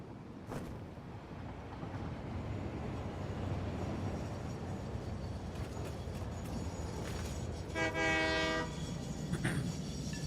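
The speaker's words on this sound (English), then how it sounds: "here comes the train" A train pulls in within the video game Satisfactory, a steady rolling rumble building over several seconds, with a brief horn-like tonal blast near the end, fairly close and without talk.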